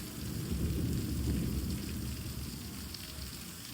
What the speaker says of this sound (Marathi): हे मस्त झड लागलेली आहे